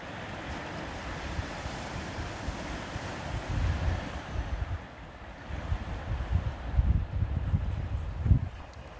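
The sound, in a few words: flowing water, waves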